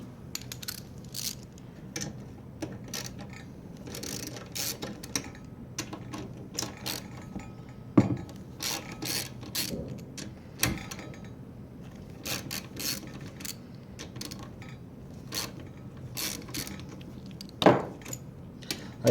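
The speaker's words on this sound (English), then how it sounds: "I can now take off the 4 10mm bolts holding on the cylinder head" Ratchet wrench loosening 10mm bolts on a Honda GX120 cylinder head, a series of quick metallic clicks and ratcheting bursts at irregular intervals with small tool clinks in between, fairly close and quiet, with no talking.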